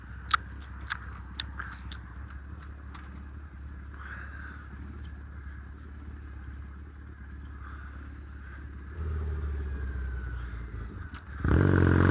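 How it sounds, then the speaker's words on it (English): Gum being chewed inside a motorcycle helmet, a series of moist clicks and smacks in an uneven rhythm, close to the mic over a steady low engine drone that grows louder near the end. "I need to spit my gum out. Otherwise, you're just going to hear this the entire video."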